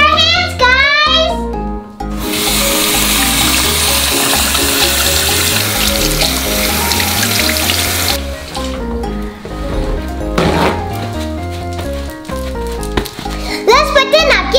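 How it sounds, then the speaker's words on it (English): A running tap with water splashing as children wash their hands, loud and close, with gushing flow filling most of the stretch between bursts of bright children's singing and talk. "Let's wash our hands, guys!"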